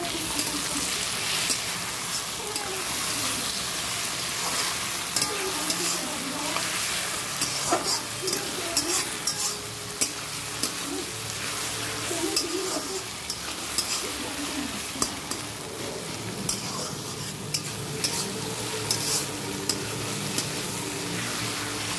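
Mutton frying in a pan while stirred: a continuous close sizzle with frequent clicking spoon scrapes and stirs throughout, steady and moderately loud.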